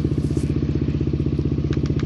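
A Yamaha NMAX motor scooter engine idles nearby with a steady, rapid thumping putter, a few faint clicks near the end.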